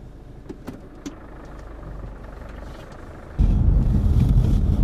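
A car engine starts, shifting from quiet clicks and rustling inside the cabin to a loud steady idle rumble.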